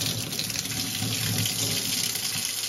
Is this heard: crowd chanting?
no